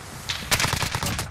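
H&K UMP45 submachine gun fire in Call of Duty Modern Warfare: a short, rapid burst of about eight loud, punchy shots within a second, close and alone.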